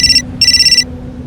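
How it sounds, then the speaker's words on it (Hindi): A mobile phone rings loud and close with a bright, warbling electronic ringtone in two quick trilled bursts separated by a short gap, then cuts off into low background hum. "कनक का फोन बजा।"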